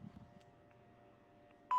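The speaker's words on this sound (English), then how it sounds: "Beep." A single short electronic beep tone sounds at the very end, loud and clean against near silence, marking the start of a live news broadcast.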